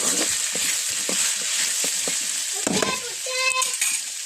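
Ivy gourd stir-fry cooking in a pan, a loud close hiss of frying with repeated scraping stirs of a spatula, then a few clattering knocks near the end.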